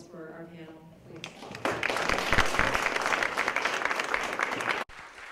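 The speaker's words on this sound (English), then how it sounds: "Can we have a round of applause for our panel, please?" An audience at a Sun Ra symposium applauds its panel: a voice speaks briefly at first, then loud, sustained clapping swells and holds before cutting off abruptly near the end.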